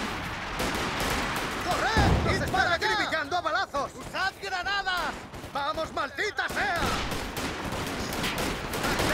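Machine gun fire in a Company of Heroes 2 four-versus-four match with U.S. forces: rattling bursts and scattered shots keep going in the background while several players chat excitedly in Spanish over the top.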